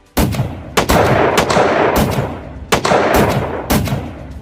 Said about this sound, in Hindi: और फिर ये वाला पायलट एक के बाद एक गोली चलाए जाता है।